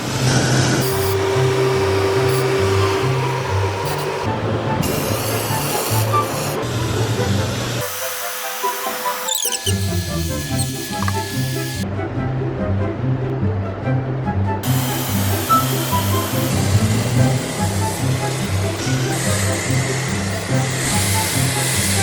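Long bursts of hissing spray, close and loud, broken by a few short pauses before spraying resumes.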